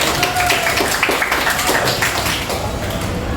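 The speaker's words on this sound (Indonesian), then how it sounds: "Oke, tepuk tangan." Students in a school group guidance class clap together in a busy, mixed patter of hand claps that holds fairly steady before easing slightly toward the end.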